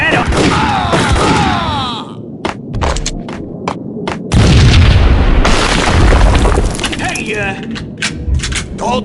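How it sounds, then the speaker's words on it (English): Deep booming explosion like a bomb blast in the Max Payne video game, loud and rumbling with heavy low-end throb, amid surrounding game noise and a voice talking over parts of it. "I thought it was a bomb for sure."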